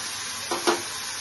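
Coconut paste hits a hot pan with a steady sizzle, and a brief louder burst of frying in the middle, short and close.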